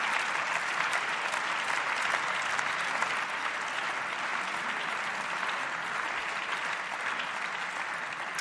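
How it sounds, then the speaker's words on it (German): Steady, dense applause fills the Bundestag plenary hall after a debate on seating arrangements, a continuous wash of many hands clapping at moderate distance, unbroken and without voices on top. "Geklatscht werden darf natürlich auch, nachdem die Aussprache geschlossen ist."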